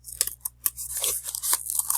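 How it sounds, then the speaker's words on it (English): Scissors poking through and snipping out a hole in a pom pom hat, a few crisp close cuts in quick irregular succession with short pauses between. "So I'm going to kind of poke my scissor through, and I got to cut this hole out."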